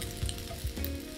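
Cut king oyster mushrooms half pan-fried in oil give a close, steady sizzle, broken by a few soft bumps as they are moved around the pan.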